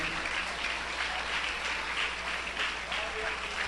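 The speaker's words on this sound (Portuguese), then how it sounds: "vai lá, aplaude a Jesus." A church congregation claps for Jesus during a sermon, a steady wash of applause that fills the room and holds evenly from start to finish.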